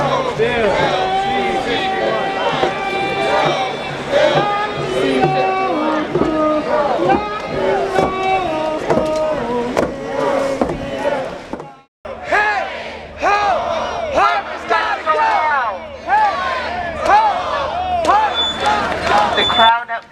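A large protest rally crowd against Bill C-51 in Victoria, March 2015, chants loudly and rhythmically with cheering mixed in, a dense wall of many voices that breaks off briefly before the chant resumes.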